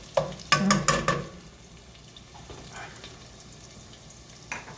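Onions sautéing in a pot for broccoli cheddar soup, opening with a few loud clattering spoon knocks, then a quiet steady sizzle with faint stirring and no talking.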